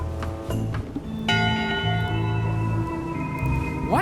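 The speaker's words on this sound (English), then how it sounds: "One bell. Voting hour." A single bell strike rings out in the video game Return to Monkey Island, a clear metallic tone that decays slowly over a low musical background.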